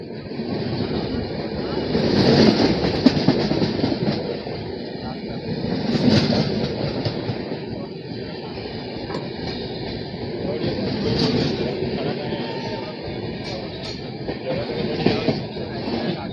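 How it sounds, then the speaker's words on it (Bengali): Doon Express bound for Rishikesh passing close by an adjacent train, a loud sustained rumble of wheels and wagons with swelling surges and faint squeals, a voice speaking over it. "এই যে এখন আমাদেরকে অতিক্রম করছে দুন এক্সপ্রেস"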